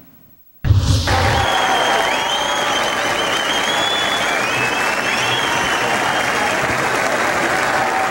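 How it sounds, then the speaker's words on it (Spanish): Tens of thousands of people gathered in the streets of Buenos Aires applaud in tribute amid wind and rain, a loud continuous wash of clapping and crowd noise that starts abruptly and holds for about eight seconds. "Silencios y aplausos en medio del viento y la lluvia."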